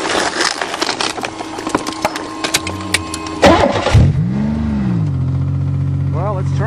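A Buick car, crushed twice by a 20-ton dozer, has its engine start and rev. A steady engine tone with rising and falling pitch sweeps comes through clearly, following rough, cluttered noise.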